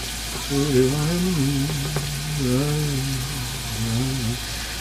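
Onions sizzle steadily in a home-kitchen frying pan, a dense broad hiss that stays constant throughout while a voice hums or talks over the top.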